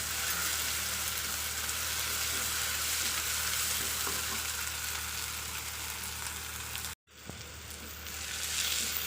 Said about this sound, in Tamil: இப்போ தக்காளி போட்டு நல்லா வதக்கிட்டோம்.